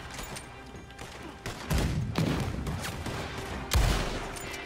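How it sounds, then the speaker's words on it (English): Heavy booming cannon blasts go off a few times at irregular intervals, loud and close, amid game noise in Red Dead Redemption 2 Online. "Is someone shooting cannons at us?"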